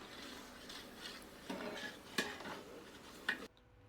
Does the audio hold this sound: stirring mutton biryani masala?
yes